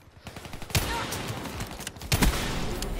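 Sniper rifle fire in Call of Duty: Black Ops III, two sharp, loud gunshot cracks about a second and a half apart over a busy background of game noise.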